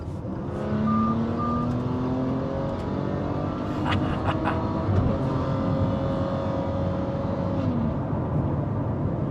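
A 2021 Maserati Levante's 3.0-litre Ferrari-derived V6 with a stage one tune rumbles steadily with a deep exhaust note, rising in pitch as it revs, then settling back; no one speaks.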